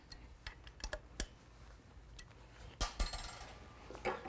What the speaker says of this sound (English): Then continue tightening the clamp bolt to jack open the yoke.